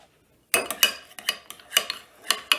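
A spoon stirring a thick peanut butter and Greek yogurt fruit dip in a bowl, starting after a brief silence with a series of irregular clinks and scrapes close by.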